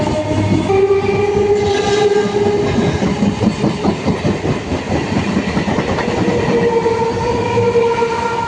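A train moves through a station with loud, continuous rumbling and rhythmic wheel clatter, and a sustained horn sounds over it; no voices.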